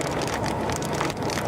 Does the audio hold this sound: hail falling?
yes